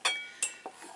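Softened, translucent onions and peppers are tipped into a bowl with a bright clink and a few soft thuds and scrapes, close and brief.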